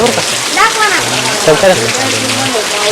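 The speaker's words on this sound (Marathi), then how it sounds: "चांगला पाऊस पडत होता" Heavy afternoon rain pours down steadily over a rural village, a close, even wash of falling water, with people talking intermittently over it.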